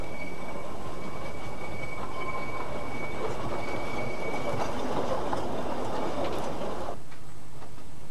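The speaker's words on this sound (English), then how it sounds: "actually on board the train, heading out from Port Maddock towards Festiniog." Inside a moving narrow-gauge steam train in Wales, heading from Porthmadog towards Ffestiniog, heard from the rear observation car: a continuous rumble of wheels on rails with a thin steady squeal, the noise dropping off abruptly near the end.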